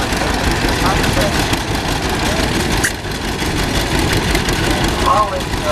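A 1952 John Deere antique tractor running in a parade, its engine chugging steadily at a moderate distance beneath people talking and crowd noise.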